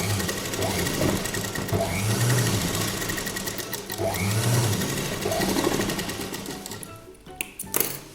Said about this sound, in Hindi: अब हम यहाँ से इसको टर्न करते हुए ये साइड पर सिलाई लगा लेंगे।